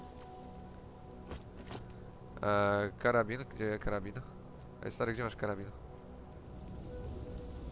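Rain in the video game STALKER, a faint steady patter running throughout the scene, largely underneath someone talking loudly in the middle and some scattered footsteps.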